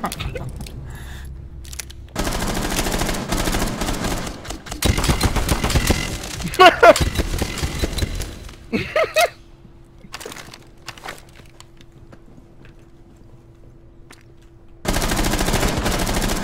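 Rainbow Six Siege gunfire: several long, loud bursts of rapid automatic fire separated by quieter stretches, with a few short clusters of shots and light movement noises in the gaps.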